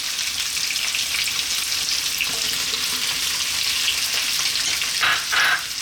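Potatoes and carrots sizzle in a hot pan on a lively heat, a steady crackling fry with occasional stirring scrapes and a brief louder burst near the end.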